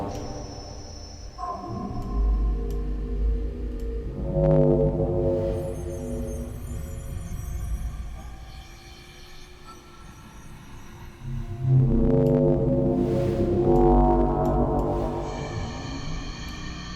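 Eerie pan-modulated synthesized tones swell and drift with slow sweeping modulation, layered over sustained low drones, fading back and rising again in a spacious, otherworldly wash.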